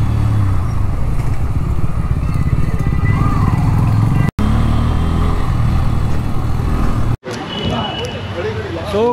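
A KTM Duke 390 motorcycle pops a wheelie, its engine roaring loud and close with a steady, rough drone that breaks off briefly twice, with people talking over it.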